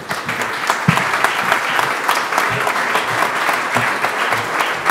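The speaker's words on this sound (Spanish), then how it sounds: "vamos a recibirle con un aplauso a Eduardo Rodríguez" An audience at a regatta award ceremony applauds with dense, steady clapping that fills the whole stretch, loud and close, with no speech over it.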